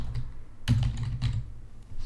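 Several bursts of keystrokes on a computer keyboard while filling in a workflow service task form, a brief cluster of clicks at a time with pauses between, close and fairly quiet.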